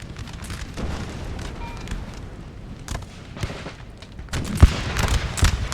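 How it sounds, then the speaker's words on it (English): Massed musket volleys in a Napoleon: Total War battle at Borodino, 1812, crackling and popping continuously over a dense battle din, with heavier booming bursts near the end. "The volleys of the Poles is giving them brutal"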